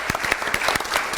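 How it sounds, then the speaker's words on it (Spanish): An audience at a mining and energy program applauds a presenter and panelist, close and loud with dense, brisk clapping throughout. "nuevamente un aplauso para nuestro presentador y nuestro panelista también"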